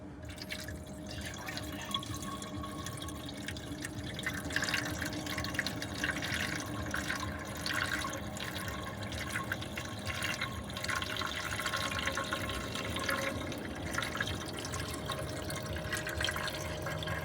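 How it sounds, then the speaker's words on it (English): Water trickles and drips steadily into the radiator of a 1967 Chrysler Imperial, a close, quiet pour with a faint continuous tone and no talk. "Now you're just putting some water in it."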